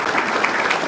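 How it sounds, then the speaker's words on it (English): Dense applause from a crowd honoring the referees at a hall of fame gathering, steady clapping filling the whole second without a break. "So I just want to say we should give a round of applause to all the refs,"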